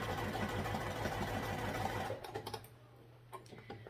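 A sewing machine stitches heavy canvas with a rapid, steady mechanical chatter for about two seconds, then stops, leaving quiet handling clicks and rustles nearby.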